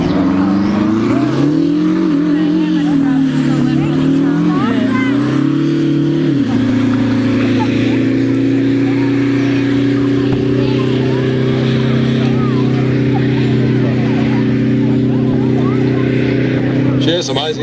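A drag racing vehicle at an airshow roars loudly and continuously, its pitch rising and stepping up under acceleration before holding a sustained high drone, with a voice talking over it.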